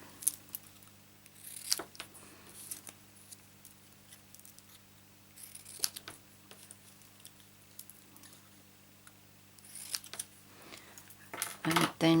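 Scissors snip card pieces in half for waistcoats on a handmade Nemo birthday card, giving scattered light cuts and soft paper rustles at close range, with a few sharper clicks near the end.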